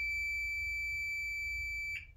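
A single sustained electronic beep from a countdown timer's buzzer, loud and steady, holding one high pitch for about two seconds before cutting off abruptly.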